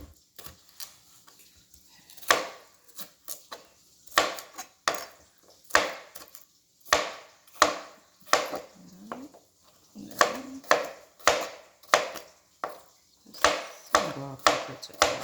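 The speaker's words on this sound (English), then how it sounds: "Cut up some chicken." A knife chops raw chicken sharply on a cutting board, irregular strikes at first, then a quicker steady rhythm of close, distinct thuds.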